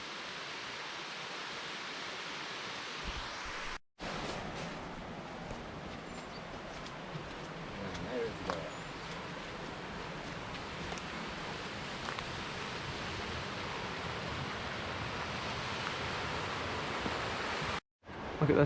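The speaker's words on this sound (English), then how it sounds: "That waterfall there is incredible." A waterfall in the Scottish woods rushes in a steady, broadband roar that fills the whole stretch evenly at a moderate distance, with faint rustles on top and a couple of abrupt cuts.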